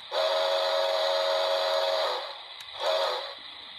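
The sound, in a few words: whistle sound of Polar Express model train locomotive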